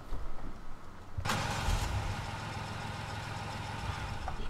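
A truck engine in the video game DayZ cranks and catches, then settles into a steady idle that rumbles on to the end, with no talk over it.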